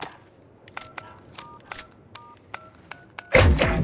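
A bomb being planted in a video game: a series of short electronic keypad beeps tapped out at an uneven rhythm, ending in a sudden loud burst of noise.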